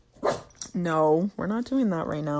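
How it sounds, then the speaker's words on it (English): A pet dog barks and yips a few times near the start, then someone talks over it, scolding it in a raised voice while it quiets. "that's my dog"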